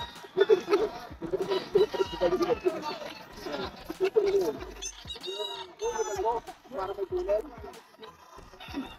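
Stag gamecock roosters for sale at a crowded pet market, clucking and giving short crowing calls at close range amid constant chatter from sellers and buyers.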